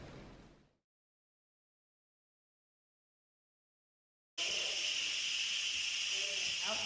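Steam hissing loud and steady from an Instant Pot after a quick pressure release, following a brief faint sound and several seconds of silence.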